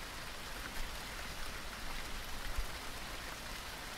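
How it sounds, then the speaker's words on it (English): Light drizzling rain falls steadily at a 1920 ballpark-day street scene, a soft continuous hiss with faint scattered drops, alone and without voices. "It was drizzling as Carl Mays left his apartment that day, heading over to the ballpark"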